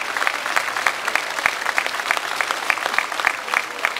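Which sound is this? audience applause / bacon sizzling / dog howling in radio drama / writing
audience applause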